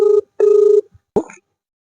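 A telephone ringing tone while calling a third number: two long steady rings with a pause between, then a brief clipped burst as the line cuts off, alone with no talk.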